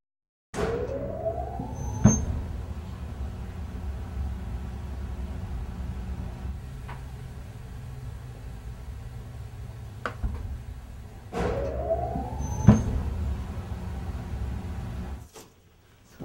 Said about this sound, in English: When the blowers are activated, large volumes of highly pressurized air are sent through a maze of wind trunks